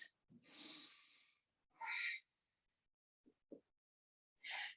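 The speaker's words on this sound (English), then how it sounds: "Take a big deep breath." A slow, deep breath, drawn in with an airy hiss and then let out, during a quiet yoga session; a couple of soft mouth sounds follow, then another audible breath.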